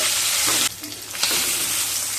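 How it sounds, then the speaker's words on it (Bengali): Loud, close hiss of koi fish frying in hot oil, briefly dipping as the fish is turned, then sizzling strongly again. "একটা সাইড মাছ ভাজা হয়ে গেছে, এবার উল্টে দিচ্ছি"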